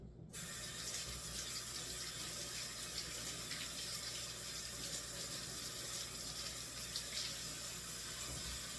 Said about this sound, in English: what I normally do is I normally rinse off all my meat